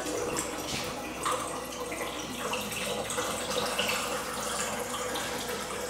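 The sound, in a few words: pouring liquid into a film developing tank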